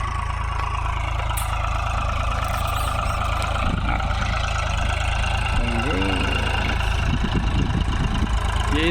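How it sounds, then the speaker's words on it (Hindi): A tractor runs steadily while laying mulch film across a field for ridge gourd cultivation, a low continuous engine drone near at hand, with voices talking over it in places. "सो आप लोग अभी देख सकते हैं बिल्कुल ट्रैक्टर चल रहा है"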